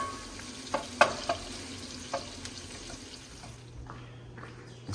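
Onions fry and sizzle in a pan as they soften and caramelize, a steady crackle broken by a few sharp stirring scrapes and clinks near the start, then fading toward a quieter hiss.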